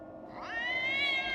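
A human voice imitates the cat from Team Fortress 2, producing a single rising, tonal meow that swells and holds near the microphone, with no other talk.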